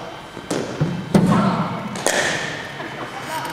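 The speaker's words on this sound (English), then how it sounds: "All right, well struck, Harry." During a cricket batting practice session, a bat strikes the ball with a few sharp, separate knocks. Coaching voices speak between and over the hits.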